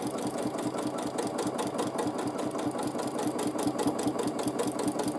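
A sewing machine runs steadily for free motion quilting, its needle giving a fast, even mechanical chatter that is close and continuous throughout, with no pauses.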